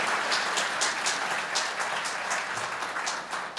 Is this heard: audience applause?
yes